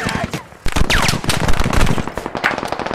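Rapid automatic gunfire in a shooter game, loud dense bursts with sharp repeated cracks filling most of the moment after a brief lull near the start.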